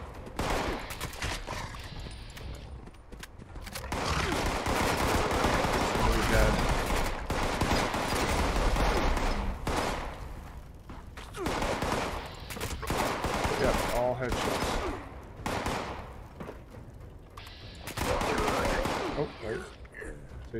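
Rapid gunfire bursts crack and pop through much of the stretch as players shoot super mutants in the video game Fallout 76. They are dense and loud, with someone talking over the shooting.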